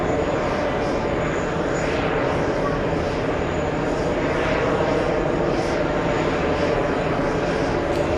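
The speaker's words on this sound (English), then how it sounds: "Here we are with an LA flight on an A330 Neo, flight 939, arriving 30 minutes early." An Airbus A330neo airliner arriving, its steady engine roar spread evenly across the whole stretch, broad and continuous at moderate loudness with no clear peak or fade.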